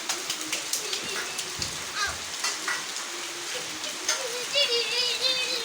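Rain patters steadily in a continuous wash with scattered drops, while birds chirp here and there above it, at a moderate, even level with no one talking.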